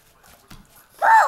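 A dog gives a short, loud, high whine that rises and falls, close to the listener, following a stretch of soft murmured voices and faint rustling.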